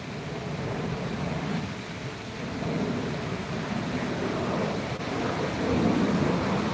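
Streams flowing at Glen Falls waterfalls, a steady broadband rush of running water, moderately loud and continuous throughout with slight swells, no voices.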